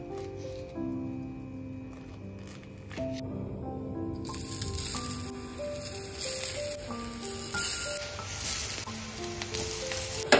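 Thin slices of alu vadi, rolled colocasia leaf, shallow-fry in a little oil on a flat griddle pan. A soft, steady sizzle sits beneath louder melodic background music.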